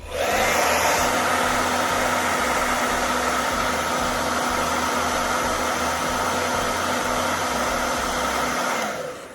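Hair dryer blowing on Angelus leather paint freshly brushed onto sneakers, a loud, steady, close rushing whoosh with a motor hum that runs for about nine seconds before cutting off.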